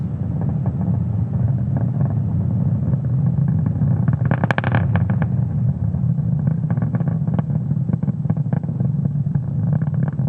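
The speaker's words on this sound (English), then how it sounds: "Now we are throttling down the engines in preparation for Max Q." Falcon 9 rocket engines roar as a steady, loud low rumble on a Starlink launch ascent while throttling down before Max Q, with a brief brighter burst partway through.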